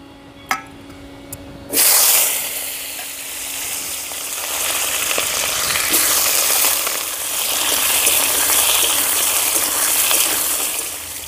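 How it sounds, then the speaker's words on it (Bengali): A few faint clinks in quiet, then a loud burst of sizzling as potato pieces drop into hot white oil in a wok, settling into a steady, close, strong fry. "তেল গরম হয়ে গেছে, প্রথমেই আলুটা ভেজে নেব।"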